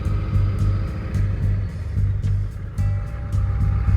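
A 1990s-era Ford F250 with the 7.3 diesel, recently un-stuck rear brakes and a badly vibrating, poorly driving chassis, rumbles along steadily with a low, pulsing engine drone and rhythmic thumping from the road.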